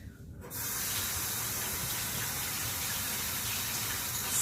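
Water runs from a tap as hands are washed: a steady, close, full gush that starts abruptly after a brief quiet moment and keeps flowing evenly, with no talk.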